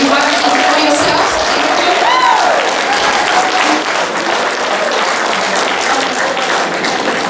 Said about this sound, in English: Let's give another round of applause for Sister Tofayo.